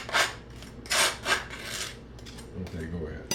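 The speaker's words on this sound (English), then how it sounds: "He was just kind of spreading the butter on the toast" A knife spreads butter across toast in several dry scraping strokes, close and fairly quiet, each rasp separated by a short pause, with faint background rustle.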